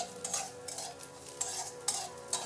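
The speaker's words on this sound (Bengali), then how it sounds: "এটা দিয়ে আর একটু সব মিলিয়ে ভেজে নিচ্ছি" Black cumin and mustard seeds with onion fry softly in a pan for a village-style potol bharta, a quiet sizzle broken by a few light stirring scrapes and clinks.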